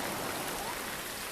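Steady rain in the VR game Real VR Fishing, falling in a wet fishing spot as a continuous, even hiss of drops on a surface, with no voices over it.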